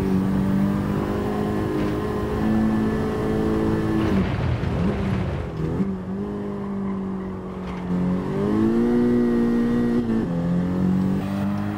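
Race car engine in Gran Turismo 7 with heavy turbo lag, droning steadily through the gears with a brief surge and shift break midway, then climbing again with rising revs, loud and continuous, no talking.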